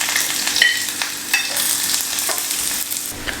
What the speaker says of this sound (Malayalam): കടുകെല്ലാം പൊട്ടിയിട്ടുണ്ട്. ഞാനതിലേക്ക് ചെറിയ ഉള്ളി അരിഞ്ഞത്